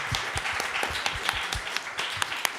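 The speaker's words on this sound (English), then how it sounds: "Please give them a round of applause." An audience at a youth climate action event gives a round of applause: a dense, steady clatter of many hands, with sharp individual claps standing out and no talking.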